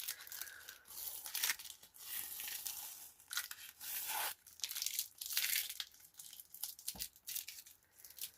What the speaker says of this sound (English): I've ripped the first layer.